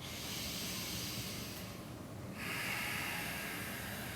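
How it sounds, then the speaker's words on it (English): Slow, deep breathing during an intense power yoga session, a long steady airy inhale, a brief pause, then a long hissing exhale close up against quiet surroundings. "And you take 3 deep breaths. 2 more deep breaths."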